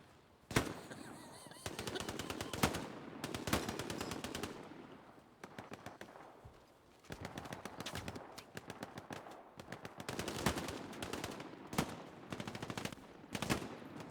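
Machine gun fire in a video game, long bursts of rapid automatic shots alternating with brief gaps, sharp and fairly close, with no talking.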